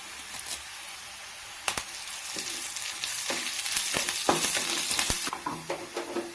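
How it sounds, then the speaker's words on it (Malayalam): Onion, chili and mustard seeds sizzling in hot oil as curry leaves drop in, a bright continuous crackle that swells louder with sharp spattering pops and a few stirring scrapes. "ഞാൻ അതിലോട്ട് ഈ കറിവേപ്പിലയും കൂടെ ഒന്ന്"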